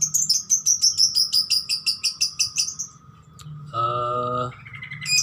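A jumper songbird, a fighter female kept for competition, chirps in rapid repeated bright notes for about three seconds, followed by a lower buzzy call and further tweets, close and clear with no talk.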